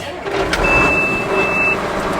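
A farm tractor's engine runs steadily at idle, close and loud, with a faint whine above the low rumble.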